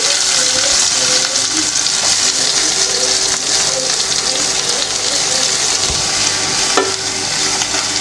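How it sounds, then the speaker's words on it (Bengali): Chopped onion sizzles and fries in hot soybean oil in a pan, a steady loud crackling hiss throughout with occasional stirring scrapes. "এরপরে দিয়ে দেবো পেঁয়াজ কুচি"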